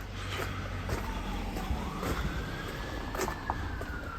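A distant fire truck siren wails in a slow rising and falling sweep over steady city traffic noise at night, faint but continuous.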